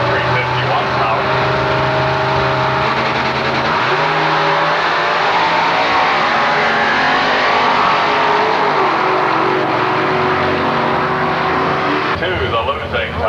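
Ford Mustang drag cars, including a 504-cubic-inch car, roaring down the strip at Milan Dragway, a loud sustained engine howl with shifting pitch and a rising rev near the end, under a track announcer's voice.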